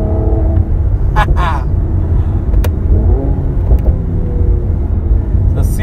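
A 2019 Mercedes-AMG C43 coupe drives along a twisty country road, its engine giving a steady, loud rumble with slight rises in revs, heard from inside the car.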